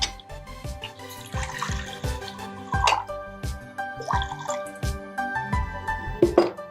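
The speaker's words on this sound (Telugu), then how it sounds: "స్టవ్ ఆన్ చేసేసుకొని వాటర్ వేసుకోండి." Water pours and splashes into a pot set on a kitchen stove, a steady trickling stream with dripping, clinking accents throughout, fairly close and with no talking.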